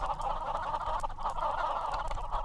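Steady, dense clucking of many chickens in a Minecraft-style survival game farm fills the whole stretch, a continuous mid-pitched flock chatter with no voices over it.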